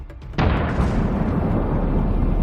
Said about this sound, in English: it delivered a strike that caused a powerful explosion